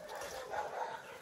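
A dog barks and yips faintly in the distance on a walk through the bush, a few soft rough bursts in quick succession.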